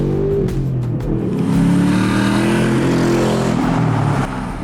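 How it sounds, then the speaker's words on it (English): An S650 Ford Mustang with a MagnaFlow xMOD performance exhaust in track mode, revving loud and close: a deep, steady engine drone whose pitch climbs and falls smoothly through one sustained rev before easing off. "if you go to sport mode, then it's like throttle dependent. So the valve's gonna open kind of depending on where you are in the throttle"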